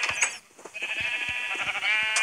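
A black sheep bleats in a video game, a wavering nasal cry that rises and continues for over a second amid soft footstep-like thumps, moderately close with no talk over it.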